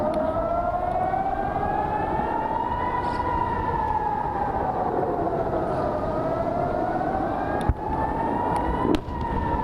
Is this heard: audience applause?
no